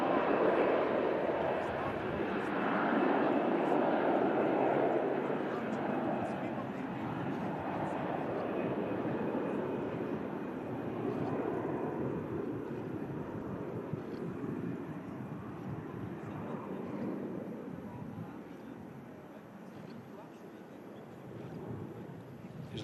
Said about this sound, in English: EasyJet finally on the roll out to Dalaman